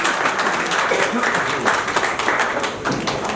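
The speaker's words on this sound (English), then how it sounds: "Can we have a round of applause, please?" An audience at an on-stage brand ambassador event for a boxing champion applauds as the mascot brings out the Team India jersey, a steady round of clapping with voices talking underneath.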